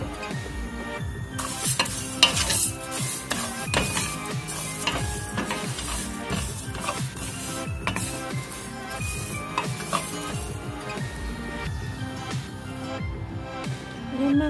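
Rice frying in a hot pan and being stirred, a steady sizzle broken by repeated scraping and clattering strokes of a utensil, close and continuous with no talking.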